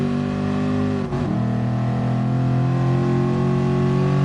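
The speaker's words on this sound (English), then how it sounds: "How many of you guys just like the sound of the engine?" Car engine running steadily through a lap, a loud sustained drone with a brief dip and shift in pitch as it revs back up, heard alone without talk.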